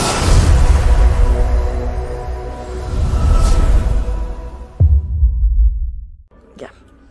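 A mini 3-in-1 AS-228 handheld vacuum cleaner runs with a steady, close whooshing hum for several seconds, then switches off and leaves near silence.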